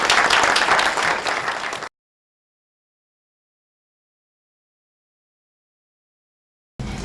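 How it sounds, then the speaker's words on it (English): Audience applause at a college conference on prison programs and reentry, a loud burst of clapping from a crowd that cuts off abruptly into silence and briefly returns at the very end. "So let's give our panelists a round of applause."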